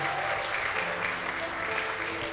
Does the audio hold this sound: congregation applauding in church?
yes